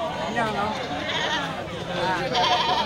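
Etawa crossbreed goats bleat loudly at close range at a goat market, overlapping wavering cries filling the moment alongside nearby voices.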